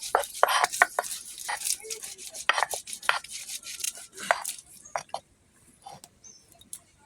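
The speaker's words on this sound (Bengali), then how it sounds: "রসুনগুলো বেটে নাও।" Garlic cloves are crushed into paste on a grinding stone in a village kitchen, with rhythmic scraping, thudding strokes close by that thin out and stop near the end.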